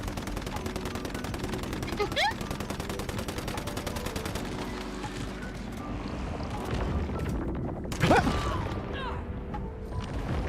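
Rapid, sustained gunfire from a video game, automatic bursts hammering steadily through the clip with a heavier impact near the end, a voice faintly present beneath.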